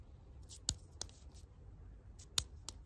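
Sticky rosin residue peels off fingertips in a few sharp, faint tacky clicks and snaps spaced apart against a quiet background.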